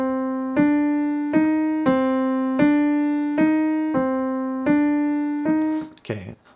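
A right-hand piano rhythm for Rihanna's "Unfaithful" plays as repeated chord strikes in an uneven pulse, each ringing and fading, clear and close, ending on a short knock.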